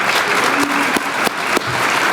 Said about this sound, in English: I'd actually like to call for a round of applause for Jeff Passmore, because really,